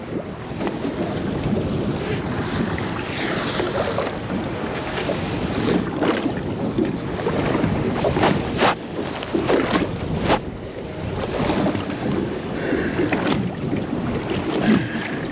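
Steady wind gusts and water wash around a small fishing boat drifting fairly quickly at sea on a chilly, unpleasant day, a constant broad rush with no talking.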